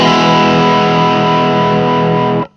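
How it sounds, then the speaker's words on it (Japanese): An electric guitar chord rings through a distortion effect pedal with the gain turned up, a loud, thick, buzzing sustained tone held steadily before cutting off abruptly at the end. "歪みを上げていくと、"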